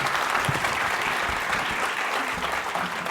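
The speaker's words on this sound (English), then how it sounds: "Can we please begin with giving a round of big applause to the organizers?" A lecture-hall audience gives the organizers a round of applause, a dense, even wash of clapping held at steady loudness from start to finish with no speech over it.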